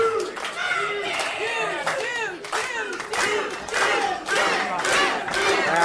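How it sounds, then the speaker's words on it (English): A wrestling crowd at a live match roars, chants and claps in repeated rising surges behind The Dude, loud and close, with shouted voices from the crowd. "Crowd now getting behind the dude."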